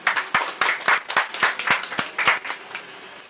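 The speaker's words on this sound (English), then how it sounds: "they do deserve at least a round of applause" A brief round of applause from a small audience at a medical endoscopy workshop in a Karachi hospital, a dozen or so irregular, fairly close claps that thin out toward the end.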